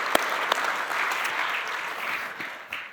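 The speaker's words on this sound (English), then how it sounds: "Give me a round of applause, guys." Indoor audience at an investing seminar bursts into applause: dense, continuous clapping from a crowd, with a few sharp individual claps standing out, lasting about three seconds and easing slightly toward the end.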